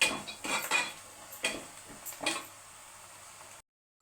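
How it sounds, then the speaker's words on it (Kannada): Spices for lemon rice fry in a pan while a spoon scrapes and clinks against the metal, producing several short stirring strokes over a low sizzle before the sound cuts off. "ಎಲ್ಲ ಫ್ರೈ ಮಾಡ್ಕೊತಾ ಇದ್ದೀನಿ"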